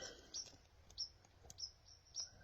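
Faint, high chirps repeat at irregular intervals, about five short calls from a small bird at a distance over quiet background.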